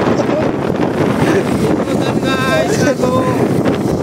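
Strong wind buffets the microphone with a loud, continuous rumble on an outdoor trip, probably near a boat. Faint voices are heard through the gusts.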